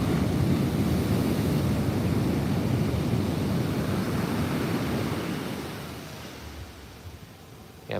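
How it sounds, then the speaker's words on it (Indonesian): Ocean surf breaks in a heavy, continuous roar along the beach at Muaro Bayang in West Sumatra, the wash loud and steady before easing off toward the end, with no voices. "Ombaknya tinggi-tinggi sana"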